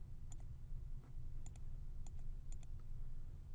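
Mouse clicks on toolbar icons in Rhino 3D modeling software, a handful of quick, faint, crisp clicks spaced irregularly over a low steady background hum.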